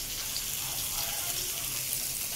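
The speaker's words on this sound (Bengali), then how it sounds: "উচ্ছে আর বেগুন ভাজা চলছে।" Slices of bitter gourd and eggplant fry in oil in a pan, giving a continuous soft sizzle and crackle at a steady level.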